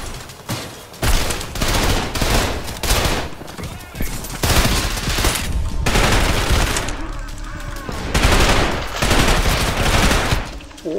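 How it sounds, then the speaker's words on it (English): Rapid bursts of gunfire in Trepang2 aimed at a fire extinguisher, loud repeated volleys separated by short pauses, with game effects filling the gaps. "Trying to get that fucking fire extinguisher to explode."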